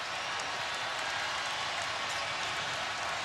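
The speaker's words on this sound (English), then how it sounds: "That brings the crowd to life." A basketball arena crowd in a dense, continuous wash of applause and cheering, steady and fairly distant, with no breaks.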